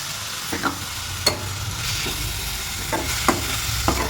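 Chicken filling frying in a pan with salt, spices and ginger-garlic paste: a steady hiss of sizzling oil with a few sharp spoon scrapes and taps, close by.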